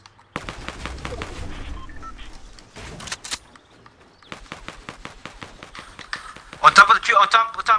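Rapid gunfire in the Fortnite video game, with bursts of sharp shots spread through the clip and a louder flurry near the end, under excited players talking over each other throughout.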